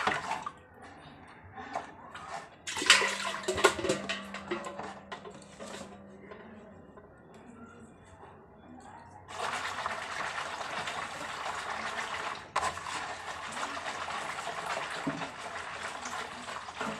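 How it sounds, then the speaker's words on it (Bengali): Water running and splashing at home while clothes are put to soak before washing, a quiet steady trickling with drips, louder filling stretches in the second half. "তো চলো জামা কাপড়গুলো একটু ভিজিয়ে নিই।"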